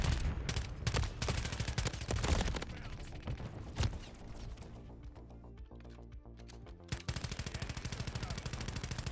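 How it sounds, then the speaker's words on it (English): AMR9 gunfire in a Call of Duty match, rapid bursts of automatic shots crackling in quick succession with pauses between volleys, loud and close amid busy game sounds. "This gun, the AMR9."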